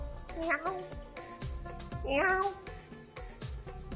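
A man imitates a cat with his voice, producing two drawn-out meows, one early and a longer one midway, close and clear over faint background noise.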